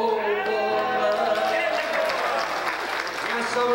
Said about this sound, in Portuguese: E a salva de palmas para Beto Carreiro